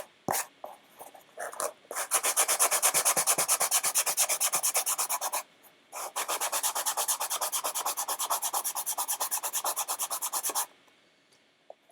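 Foam coated with quick seal is sanded by hand in steady back-and-forth rasping strokes, close and rhythmic, in two long bursts separated by a short pause.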